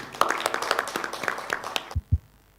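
At a WHO TDR health research workshop, sparse audience clapping comes from a small group, with a few scattered claps for about two seconds before two dull thumps and quiet.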